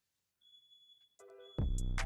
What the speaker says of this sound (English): there's fire alarms going off